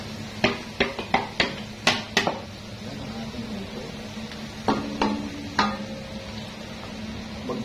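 Bottle gourd (upo) tumbles into a pot of simmering ground meat, a quick run of sharp clanks and clatters from pot and utensil, then a pause and a few more knocks over a low steady simmer.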